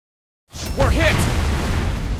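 A shell strikes the Soviet battleship Sinop in World of Warships Blitz: sudden onset after silence, then a loud rumbling impact with whooshing debris and a sustained low roar, while game voice callouts sound over it.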